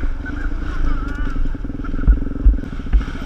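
A trail motorcycle revving hard while popping a wheelie on a dirt trail, with a rough, rapid engine chatter and a few thumps, and a voice shouting over it.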